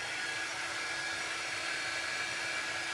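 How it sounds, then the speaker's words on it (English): An air dryer, not a heat gun, blows steadily to dry chalk paste on a holiday craft project, giving a constant, even high-pitched whoosh close to the microphone with no talking. "So this is just an air dryer."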